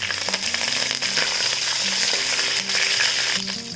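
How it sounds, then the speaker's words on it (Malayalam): Curry leaves drop into a hot pan of browning grated coconut, giving a loud, steady crackling sizzle with sharp spitting pops throughout, close up and with no speech. "ഈ സമയത്ത് നമുക്ക് കുറച്ച് കറിവേപ്പിലയിലേക്ക് ഇട്ട് കൊടുക്കാം."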